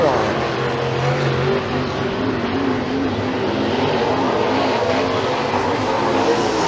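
Race cars at McKean County Raceway roaring down the back straightaway and into turns three and four, two engines close together in a loud sustained drone that stays steady throughout.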